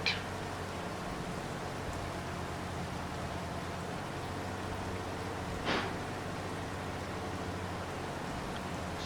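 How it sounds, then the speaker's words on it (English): Steady, even hiss of rain falling in Farming Simulator 22, with a low hum underneath and one brief swell midway. "Oh, it's raining, great."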